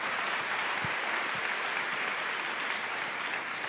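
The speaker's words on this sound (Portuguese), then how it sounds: "Pode aplaudir, igreja." A church congregation applauds during a sermon, a steady dense wash of clapping from many hands that holds at an even level throughout.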